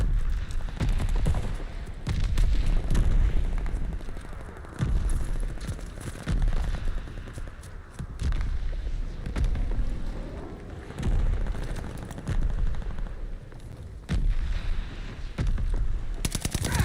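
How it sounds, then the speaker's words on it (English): In Call of Duty Vanguard, a mortar barrage and gunfire keep up a loud, continuous battle din: rapid machine-gun bursts with repeated heavy booming impacts, dense and close throughout. "Allies calling a mortar barrage."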